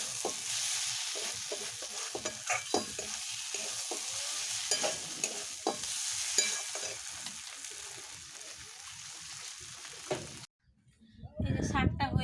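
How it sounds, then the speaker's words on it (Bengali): Grass pea greens frying in mustard oil are stirred in a pan, giving steady sizzling with repeated scraping strokes; the sizzle cuts off near the end, followed by a brief clatter. "এবার একটু নাড়বো।"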